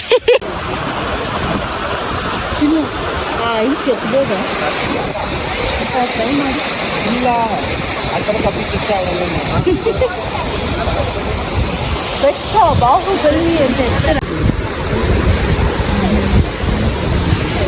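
Roaring rush of a mountain waterfall in Spiti Valley, loud and unbroken, close to the microphone with some wind buffeting, while people talk over it.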